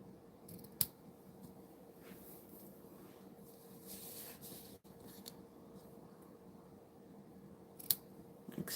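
Scissors snip through ribbon while a card is being made at a crafting table, a few quiet cutting sounds with two sharper clicks, heard alone at low level.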